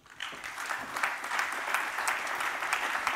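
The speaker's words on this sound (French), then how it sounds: "j'invite à me rejoindre Véronique Négret, que je vous demande d'applaudir chaleureusement" An audience at an evening talk on polar ice caps and Mediterranean sea levels breaks into warm applause for a speaker, the clapping swelling quickly and holding as a dense, continuous patter.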